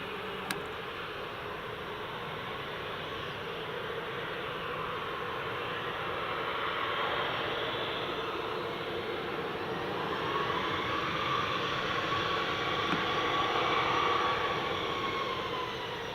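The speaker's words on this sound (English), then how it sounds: "Ryanair lining up runway 25." A Ryanair airliner lines up on runway 25 at Newcastle International Airport, its engines giving a steady, distant jet roar and whine that swells slightly toward the end, heard alone.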